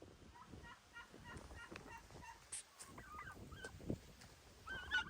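Faint turkeys gobble and cluck on and off in the distance on a farm in autumn, with short bursts of calls over a quiet outdoor background.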